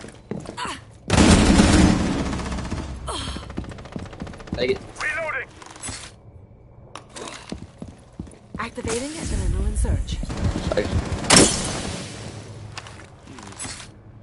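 Rapid bursts of video game gunfire, loud and close, crackle in clusters through the stretch while a player talks excitedly over them.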